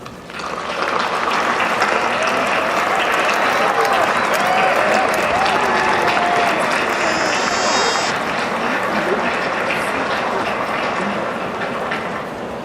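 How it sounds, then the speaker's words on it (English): A large crowd applauds at the West Point Class of 2016 graduation ceremony, a loud, steady wash of clapping filling an outdoor stadium, with scattered cheers and shouts mixed in throughout. "stand in a huge round of applause for your families and friends here today"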